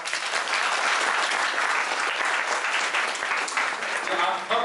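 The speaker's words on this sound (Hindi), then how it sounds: "जोरदार तालियों से" An audience at a university herbal medicine workshop gives a sustained, loud burst of applause, thick continuous clapping from many hands filling the room, with voices faintly mixed in.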